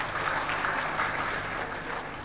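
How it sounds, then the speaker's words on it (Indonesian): Audience applause for regional heads at a West Java government speech, a steady broadband patter of many hands filling the whole short stretch at moderate loudness with no talk over it. "Tepuk tangan untuk Bapak Ibu Kepala Daerah."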